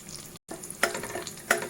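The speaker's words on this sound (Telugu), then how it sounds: "ఇలా ఆయిల్లోనే వేపుకోవాలి ఇంగు కూడా" Asafoetida sizzles in hot oil for tempering a ridge gourd peel and tomato chutney, a steady crackling fry with a brief gap and a couple of sharper spatters, and no talk.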